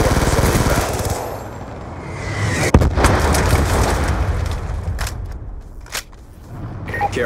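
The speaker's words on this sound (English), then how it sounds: "Friendly Hellstorm missile inbound." A Hellstorm missile strike in Call of Duty Black Ops II multiplayer, loud dense battle noise with a sharp blast near the middle and rumbling gunfire and booms throughout, a second smaller burst near the end.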